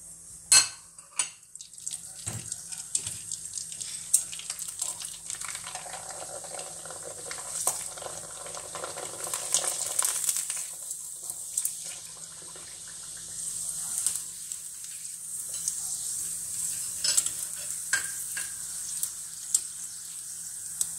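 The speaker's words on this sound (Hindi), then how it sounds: "देखिए मैं अब एक पापड़ तेल में डाल रही हूँ।" Sago papad dropped into very hot oil over a high flame, giving a steady bright sizzle and crackle of deep-frying that swells and fades across the stretch, with occasional louder pops and no talking.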